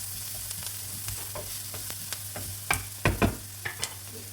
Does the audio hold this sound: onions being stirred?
yes